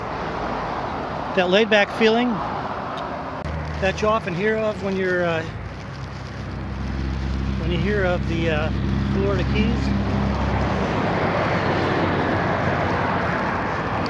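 Road traffic passing by in Key Largo in the Florida Keys, a steady low rumble of vehicles that swells and holds in the second half, with someone talking over the start.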